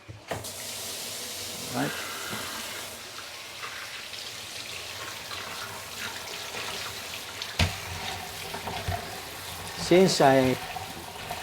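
Chillies being washed under running tap water, a steady close splashing stream with occasional clatter and handling, someone speaking briefly over it.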